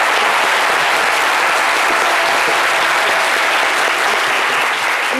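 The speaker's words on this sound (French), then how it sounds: "Je vais demander à notre chaleureux public, pour soutenir nos invités, de faire un maximum de bruit en les applaudissant." A studio audience on the French TV show C'MIDI applauds the guests with loud, sustained clapping from a large crowd that stays steady and dense throughout.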